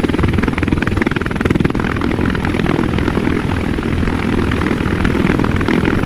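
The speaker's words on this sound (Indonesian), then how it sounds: "Yang ini helikopter putih." Loud, continuous rotor chop and engine whine of a white military helicopter, close and steady throughout with a fast pulsing beat and no talking over it.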